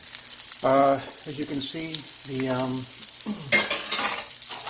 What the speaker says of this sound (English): the veal brain pieces are frying up.